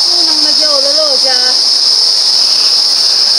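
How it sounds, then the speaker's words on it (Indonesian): Crickets in tall trees around a village give a loud, continuous high chirring close by, with a brief warbling whistle-like call in the first second and a half. "suara jangkrik, suara binatang enak gitu didengar di kuping, alami banget gitu ya"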